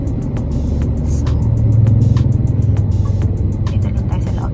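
Cabin noise from inside a car driving on the road: a steady low engine and tire rumble that swells slightly midway, with faint clicks and rustles on top and no talking.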